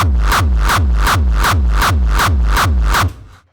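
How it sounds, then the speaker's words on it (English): A loud, punchy electronic kick drum pounds eight times in a steady rhythm, each hit booming deep with a pitched-down tail, then stops abruptly. "right now we have it done and the kicks sound like this"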